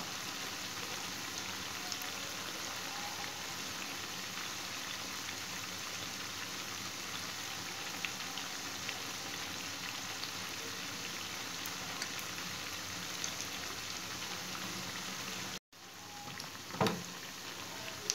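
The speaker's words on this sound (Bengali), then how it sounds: "উল্টে পাল্টে ভাজছি যেন সব দিকে একই রকমই তাপ যায়" Lentil and greens fritters (piyaju) deep-frying in oil, a soft continuous bubbling crackle like light rain, steady and fairly quiet, with a brief break and a clatter near the end.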